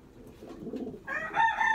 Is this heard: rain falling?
no